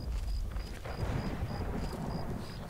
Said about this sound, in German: Oh, die Gewittersounds sind so geil.